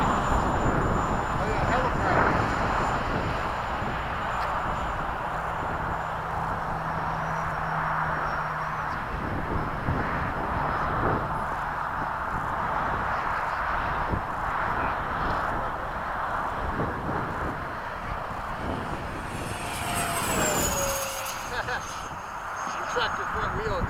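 A Freewing 80mm MiG-21 RC electric ducted-fan jet with custom LED afterburner flies at a club field, giving a steady whooshing fan whine throughout, with people talking nearby over it.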